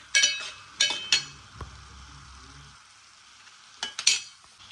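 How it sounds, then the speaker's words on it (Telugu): Curry frying in a pan, with a few sharp bursts of sizzling and scraping stir strokes over a low steady frying hiss, close and fairly loud, with no talk. "ఇదిగోండి కూర అయితే వేగుతుంది"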